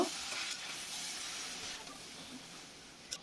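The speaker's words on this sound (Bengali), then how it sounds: "আমি শাকটা উল্টিয়ে পাল্টিয়ে ভালোভাবে নাড়াচাড়া দিয়ে দিব" Leafy greens sizzle steadily in a pan over onion fried with salt, a soft continuous frying hiss with faint stirring scrapes and a brief clink near the end.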